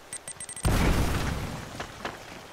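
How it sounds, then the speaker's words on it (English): A single grenade explodes in the video game Uncharted: Drake's Fortune, a loud close boom that decays into a rumbling tail, preceded by a few short high electronic beeps. "someone threw a grenade at me"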